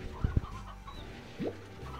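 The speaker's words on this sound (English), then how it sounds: "one of the kids must have been a rooster" A rooster in the farming game Slime Rancher gives a couple of quick low clucks, then a short rising squawk, close and moderately loud over a soft background hum.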